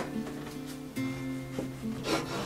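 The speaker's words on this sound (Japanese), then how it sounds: "くり抜いたパンを切っていきます" A knife saws back and forth through a hollowed-out crusty country bread loaf, steady close rasping strokes with soft background music.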